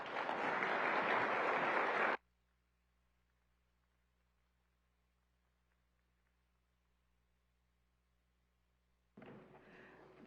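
Audience applause at a hospitality and tourism summit after a presentation, a loud burst of clapping for about two seconds, then near silence before clapping returns at the end.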